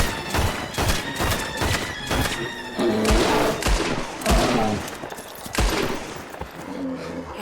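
Gunfire in Red Dead Redemption 2 cracks out in a rapid, uneven volley of loud shots and bursts, with thumping impacts scattered over steady background noise.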